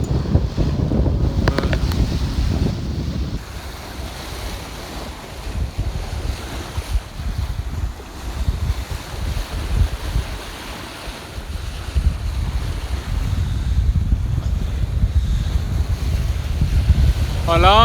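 Strong force 6 wind roars steadily across a sailboat at sea off the Dodecanese, with waves surging and slapping against the hull and loud wind buffeting the microphone throughout.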